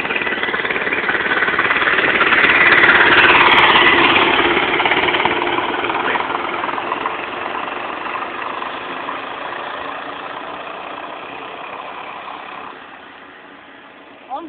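A Motovox mini bike and a 2001 Honda Elite scooter race: small engines in a sustained buzzing roar that swells and then fades as they pull away outdoors.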